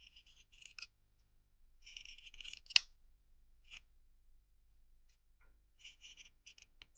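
Pinking shears trim flannel fabric for reusable hand and foot warmers: several quiet, crisp snips and scissor crunches come in short bursts with pauses between, close and isolated.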